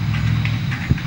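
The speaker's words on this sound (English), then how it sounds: "the sound you're hearing is a four-wheel trailer with only two wheels on it." A four-wheel trailer running on only two of its wheels drags along the road with a steady, heavy low rumble and grinding, broken by one sharp thump near the end.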